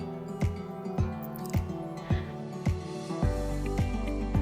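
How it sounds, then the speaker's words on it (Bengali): Sauce for chicken chow mein is stirred in a pan, with steady rhythmic scrapes about every half second over a low sizzle and cooking hum, close up. "এবার এই সসটাকেও আমি নেড়েচেড়ে 2 মিনিট মতো রান্না করে নিচ্ছি"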